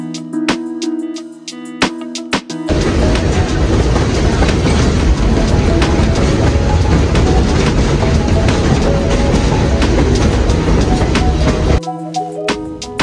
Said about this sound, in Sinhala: ඔය විදිහට අපි ටිකක් දුර ට්‍රේන් එකේ ගියා.